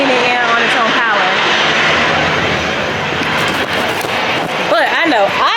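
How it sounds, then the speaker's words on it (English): A jet airliner is brought in to the gate by maintenance crews on its own engine power, a loud close roar with rising and falling whine, and people talk over it. "There's a whole plane going in here."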